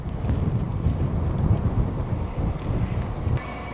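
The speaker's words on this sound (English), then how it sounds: "it is windy and it is rainy" Steady, blustery wind roars and buffets the microphone with low rumbling gusts on a rainy day in a town street, no voices, continuous throughout.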